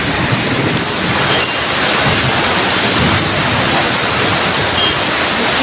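Heavy rain pours down in a steady, dense roar of water close by, loud and unbroken throughout with no voices.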